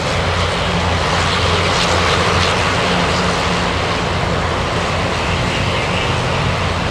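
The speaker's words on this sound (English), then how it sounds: "We have a little E-175 flying in from Bethel," An Embraer E-175 regional jet arriving from Bethel, Alaska, at Anchorage gives a loud, steady, close engine roar that holds without a break.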